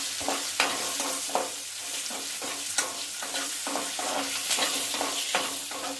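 Cashews and green chillies frying in hot oil in a pan, a steady sizzle broken by repeated scraping clicks as a spoon stirs them, close and fairly loud with no voices.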